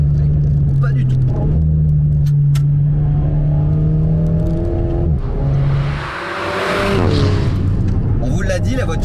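An Alpine A110 GT, its anti-roll bars not yet fitted, runs on a race track with a loud engine drone that rises and falls through the gears. A rushing burst comes midway and a voice talks over it.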